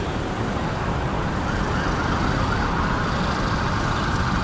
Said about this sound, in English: There's an ambulance coming from the other side.